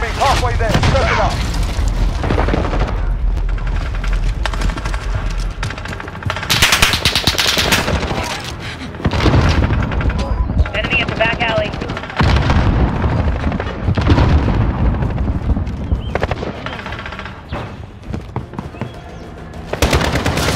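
Rapid automatic gunfire and booming explosions from a grenade fill a Modern Warfare Team Deathmatch match on the Shoot House map, loud and dense throughout with brief lulls, game voice callouts heard underneath.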